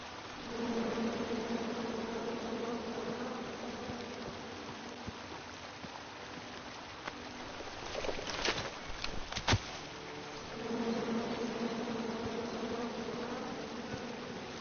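Bees buzzing in King's Quest Episode 1 on PS4, a steady droning hum that fades out midway under a few clattering game sounds, then swells back strongly.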